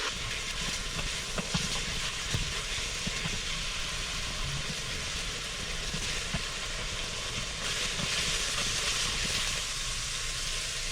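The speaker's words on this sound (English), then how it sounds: "So we're letting the meat brown up here." Ground meat for one pot American goulash browns in a pot, giving a steady, even sizzle and hiss that runs the whole time with faint clicks and no talking.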